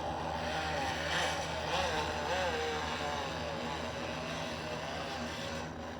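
An oscillating multi tool cutting a groove in tile grout gives a continuous, wavering motor buzz with a gritty rasp, steady and close for the whole stretch.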